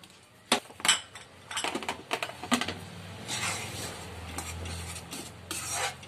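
Peanuts being stirred into melted jaggery in a pan on the stove, with a few sharp clinks of a spoon against the pan, then steady scraping and gentle stirring noise continuing alone.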